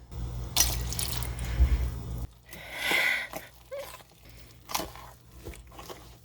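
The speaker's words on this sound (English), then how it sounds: "I'm gonna add a little more warm water." Warm water is poured into a thick bread dough mixture in a kitchen: a close splashing pour for about two seconds, then quieter wet stirring and scraping sounds.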